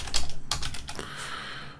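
Fast burst of keystrokes on a computer keyboard while a project title is entered, close-up clicks in a quick cluster that trails off into quiet room noise, with no talk.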